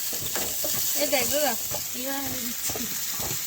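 Eggplant slices fry in oil with a steady, close sizzle while a person talks over the cooking.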